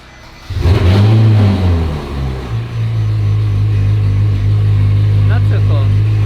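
A Mazda RX-7 engine with a titanium exhaust cranks on a cold start and fires up with a loud rev, then settles into a deep, steady rumbling idle close by.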